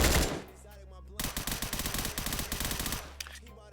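SDM9 gun firing in the Roblox game Chicago Remastered: a sustained automatic burst of rapid, evenly spaced shots lasting under two seconds, preceded by a single loud report and followed by a few scattered shots.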